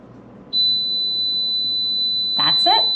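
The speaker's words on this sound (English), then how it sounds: "343, it should beep at us in a couple of seconds, I would think, a few seconds." A kitchen oven signals that its preheat temperature has been reached with one steady, loud electronic tone that holds unbroken for a few seconds. Brief talk comes in near the end.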